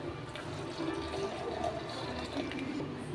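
Two tumblers of water are poured into ground coconut while making coconut milk for payasam, a steady close splashing trickle lasting a few seconds with no voices.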